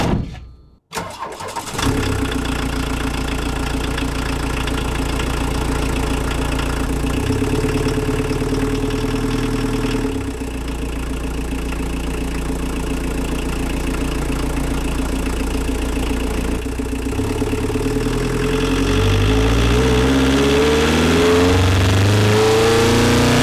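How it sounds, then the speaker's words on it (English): Car engine heard through a microphone on the air filter during a test drive: it starts, idles, then revs and accelerates repeatedly, a loud, close, continuous drone with rising and falling pitch through gear changes, no talking. "we're going to go ahead and take this thing for a test drive"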